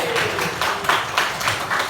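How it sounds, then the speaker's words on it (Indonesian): Classroom applause from students during a teaching practice lesson, a few uneven bursts of clapping with a voice talking over them. "Jadi tepuk tangan dulu buat kita."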